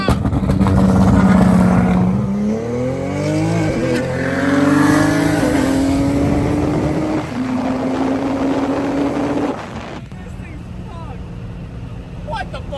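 A 2000-horsepower Nissan GT-R accelerates hard, its engine pitch climbing through several gear changes with brief dips between shifts, loud and close inside the car, then settling as the power drops off.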